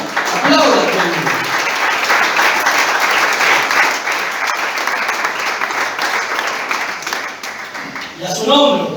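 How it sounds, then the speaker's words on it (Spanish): A church congregation claps together in sustained, steady applause, loud and dense throughout, easing slightly before a brief swell at the end, with a voice briefly audible near the close. "Aplauda conmigo."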